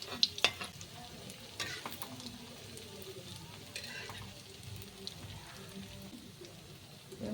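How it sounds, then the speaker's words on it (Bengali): Prawn balls crackle and sizzle as they drop into hot oil in a pan, a soft steady fry with a few sharp pops near the start and occasional stirring clinks. "তেলটা গরম হয়ে গেছে, প্রন বলসগুলো আমি ছেড়ে দিচ্ছি।"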